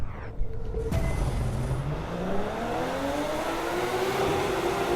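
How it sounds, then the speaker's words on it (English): A Porsche engine in The Crew 2 revs up steadily, its pitch climbing as it accelerates, loud and continuous with road rumble underneath. "Listen to the engine."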